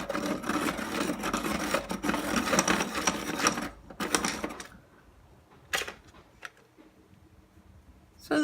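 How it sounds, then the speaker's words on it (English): Faber-Castell sharpener grinding Maped Helix colored pencils, a loud continuous rasping whir for about four seconds, then a quieter pause broken by a few short scraping bursts. "So I'm gonna use this Faber-Castell sharpener."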